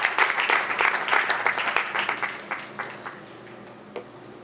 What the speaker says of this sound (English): Another big round of applause for our Mayor's Youth Advisory Council.